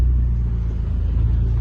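Car engine idling and rumbling at low speed while manoeuvring at a country property, a steady close low drone with no speech.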